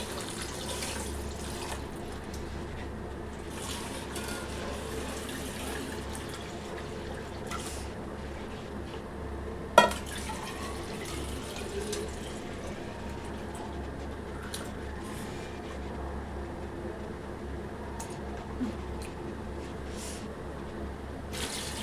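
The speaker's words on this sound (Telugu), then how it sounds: "రెండు గిన్నెలు వాటర్ అయితే వేసుకుంటున్నానండి" Water runs steadily into a cooking pot, two bowlfuls being added before rice is boiled; a continuous close pour with a faint clink partway through and no talking.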